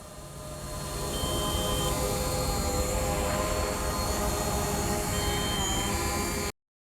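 A DJI drone flies in to land after a mapping mission, its steady whirring rotor drone loud and close, holding level for several seconds before cutting off abruptly.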